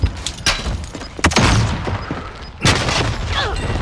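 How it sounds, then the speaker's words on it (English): Grenade blast in Call of Duty: Modern Warfare, a loud broadband boom near the middle followed by another heavy impact, among scattered gunfire thumps with no voices. "Grenade out!"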